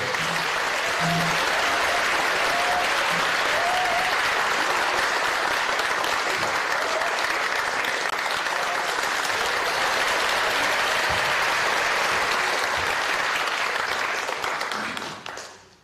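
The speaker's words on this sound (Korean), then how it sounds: "네, 큰 박수로 맞이해 주시기 바랍니다." A lecture audience at a university in Korea applauds to welcome a speaker, sustained full clapping from a large crowd that continues loudly before cutting off.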